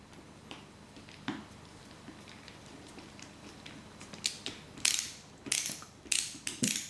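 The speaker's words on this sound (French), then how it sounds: "prenez votre tournevis avec une vis DM et placez une" Metal screw driven by a screwdriver into a metal part of a DeLorean scale model, a series of sharp ratcheting clicks growing louder and more frequent toward the end, close and otherwise quiet.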